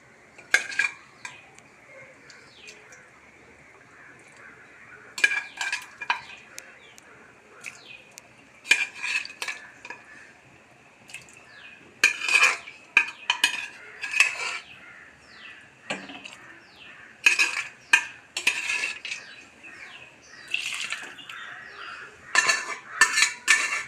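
A spoon scrapes and clinks against a metal pot while cooked duck is stirred into boiling masala for a Kuttanad-style duck curry, in irregular bursts of clatter over a soft background, close up and without speech.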